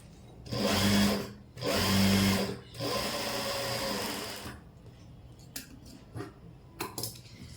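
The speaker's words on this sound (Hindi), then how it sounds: "पलटने के बाद यहाँ पर एक टॉप स्टिच लगा लेंगे।" Sewing machine stitching a top stitch on a pair of pants, two loud bursts of running followed by a longer steadier run, then quieter handling clicks and taps.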